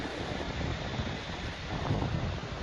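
Strong typhoon wind from Typhoon Verbena in Negros Occidental, Philippines, buffets the microphone in a continuous rough roar, with no voices.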